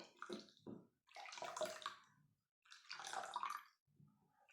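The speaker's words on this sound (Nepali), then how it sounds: "यो बेसार पानी यसमा हालौँ" Turmeric water splashes and pours into a washing powder mixture in a few separate bursts, each a bubbly, gurgling flow with short quiet gaps between them.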